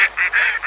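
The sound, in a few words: ducks calling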